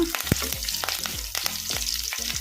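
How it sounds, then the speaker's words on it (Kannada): Mustard seeds, cumin and curry leaves sizzle in hot oil, giving a loud, continuous crackle broken by rapid popping spatters and a few stirring clinks close by. "ಒಂದು ಸ್ವಲ್ಪ ಸಾಸಿವೆ ಜೀರಿಗೆ ಹಾಕೋಣ ಸ್ವಲ್ಪ ಕರಿಬೇವು ಹಾಕೋಣ"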